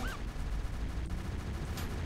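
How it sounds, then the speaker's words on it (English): Rapid gunshots in a video game, a dense, continuous burst of loud crackling fire with a faint tonal whine near the start and no speech over it. "Shots fired!"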